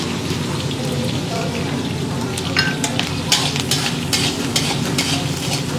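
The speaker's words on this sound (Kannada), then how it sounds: "ತೆಂಗಿನಕಾಯಿ ಸ್ವಲ್ಪ ಫ್ರೈ ಆದರೆ ಸಾಕಾಗುತ್ತೆ" Grated coconut frying with green chillies and curry leaves in a pan for lemon rice, giving a steady close, loud hiss of oil with scattered crackles and scraping stirs throughout.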